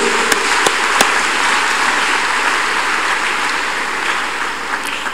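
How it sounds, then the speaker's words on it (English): A church congregation at a counselling and deliverance service clapping hands, a loud, dense and continuous roar of many hands with a few sharp nearer claps early on, no talk. "Clap your hands unto God of the chosen."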